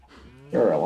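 A sheep bleating in a video game, a short nasal call that starts faint and then swells into a louder, wavering bleat.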